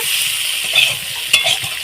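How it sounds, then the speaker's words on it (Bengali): Potatoes fry in a pan with a steady, bright sizzle, broken by a couple of louder scrapes as they are stirred. "দেখুন আলু ভাজাটা কত সুন্দর হচ্ছে"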